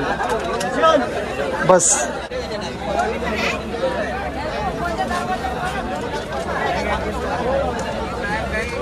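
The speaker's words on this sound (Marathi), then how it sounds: "जी काही गर्दी आहे फक्त रत्नागिरी कणकवली पर्यंतच." Loud, constant chatter from a packed crowd aboard a Konkan Railway train, many voices overlapping close by with a brief spoken word near the start.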